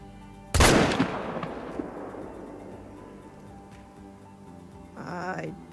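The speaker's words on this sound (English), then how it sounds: "I really need to shoot this guy before they bolt" A rifle shot fired at an Iberian wolf in the hunting game Hunter: Call of the Wild, one sharp, loud blast that rolls off into a long fading echo over a steady outdoor ambience.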